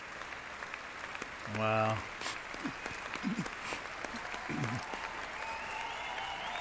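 In-game crowd applause in Final Fantasy VII Rebirth, a soft continuous patter under a swelling tone, with a player's voice briefly exclaiming over it.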